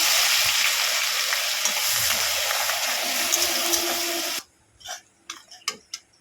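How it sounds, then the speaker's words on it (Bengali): Onions with curry leaves fry in hot oil in a home kitchen pan, a loud, steady sizzle and crackle that cuts off after about four seconds, leaving a few soft clicks and taps. "দেখুন পেঁয়াজটা এতটা ভাজা হয়েছে"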